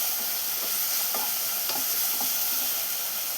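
Sizzling tomato mixture with sugar being stirred in a pan for a bitter gourd mulakittathu curry, a steady close frying hiss with soft scraping strokes throughout.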